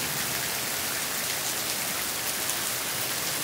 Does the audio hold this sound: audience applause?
no